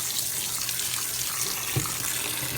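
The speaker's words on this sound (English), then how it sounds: "Rinse them bad boys off." Cooked noodles rinsed under a strong, continuous tap stream in a kitchen sink, a loud close rushing flow with a brief splash partway through.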